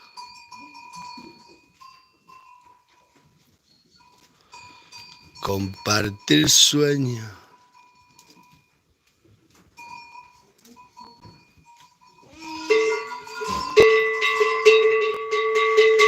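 Cowbell clanking repeatedly on Cardena, a goat out with livestock on a rainy day, rattling irregularly near and far, with someone speaking over parts of it and a louder burst of bell ringing toward the end.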